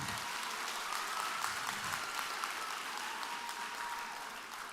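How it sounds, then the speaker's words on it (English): Graduation audience clapping steadily, a broad even wash of many hands that fades slightly toward the end. "So you can clap"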